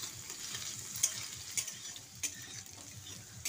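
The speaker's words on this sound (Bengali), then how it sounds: "কেটে রাখা আলুগুলো দিয়ে বেশ কিছুক্ষণ তেলে দিয়ে ভেজে নিচ্ছি।" Cut potatoes fry in oil after a cumin seed tempering, with a soft steady sizzle and rhythmic stirring scrapes, punctuated by a few sharp utensil clicks against the pan.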